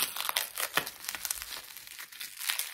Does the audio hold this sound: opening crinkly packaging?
yes